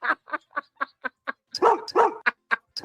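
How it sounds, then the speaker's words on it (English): A dog barking in a fast series of sharp, evenly spaced barks, first lighter then several louder, fuller ones, close to the microphone with no speech. "You're a good dog, Buster."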